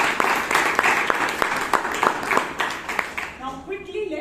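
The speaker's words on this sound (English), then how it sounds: "let's have a big round of applause for all the role takers" Audience applause at a Toastmasters club meeting in Bangalore, honoring the session's role takers: a dense wash of clapping from a sizable group, steady and fairly loud, with a voice starting to speak as it tapers at the end.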